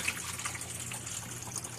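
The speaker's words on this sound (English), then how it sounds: "Water sucks in through the pump and pumps it into the tank." A small 6-volt battery-powered pump draws water and pours it into a kayak bait tank, making a faint, continuous rushing trickle with no talking.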